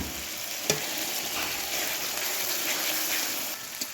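Onions fry in a pan for pav bhaji under a broad, even hiss of sizzling, with a sharp knock of the utensil near the start and another at the end, no talk.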